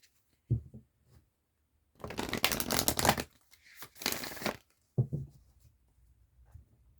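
Tarot cards are shuffled before a card is pulled, giving two quick papery riffling bursts close by, the first longer than the second, with soft handling taps around them.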